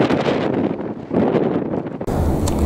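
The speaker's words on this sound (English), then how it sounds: "Even the wind is causing the camera to shake." Strong wind buffeting the microphone on a hilltop at the Münzenberg castle ruins, a loud continuous rumbling roar with gusty surges and a sudden shift near the end, no talking.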